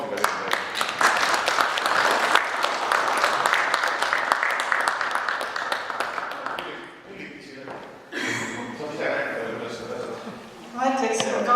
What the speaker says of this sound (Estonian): selles mõttes väärib aplausiga